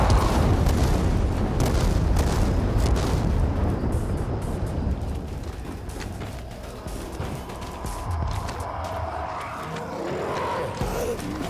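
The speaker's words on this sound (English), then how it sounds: "Watch out, I'm throwing grenades." Grenade explosions roar in Dying Light 2, a dense, continuous stretch of loud booming blasts and rumbling debris that slowly eases off while remaining heavy throughout.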